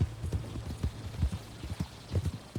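A horse walks at a steady clip-clop pace in the Western game Red Dead Redemption 2, its hoofbeats soft and fairly close, with a faint background hum.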